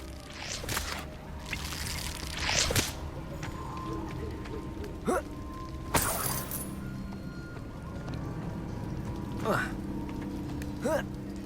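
Steady rushing water from a waterfall in Hogwarts Legacy, a continuous splashing wash with a few brighter splashes and clinks, heard beneath a voice.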